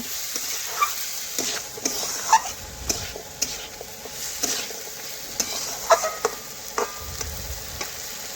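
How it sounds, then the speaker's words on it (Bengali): Beans, carrot, pointed gourd and potato stir-fried in a pan: a quiet bed of sizzling broken by repeated scraping and tapping of a spatula against the pan at an uneven rhythm. "এইভাবে দেখুন নাড়াচাড়া করে ভাজতে ভাজতে সবজি অনেকটাই সেদ্ধ হয়ে আসবে"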